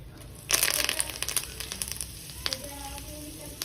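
Curry leaves hit hot oil with popping mustard seeds in a tempering for cabbage muthiya, setting off a sudden loud sizzling burst that settles into quick, crackling spits and pops.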